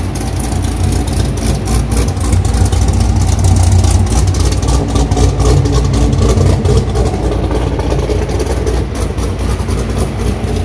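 A loud, steady engine roar drones continuously, deep and rumbling throughout: a Camaro SS V8 with long tube headers and an SLP Loudmouth 2 axle-back exhaust held at high revs nearby in a parking garage.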